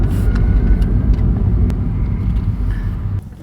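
Car interior on the road, with a steady low engine and road rumble that stays loud and even throughout, dipping slightly near the end; no talking.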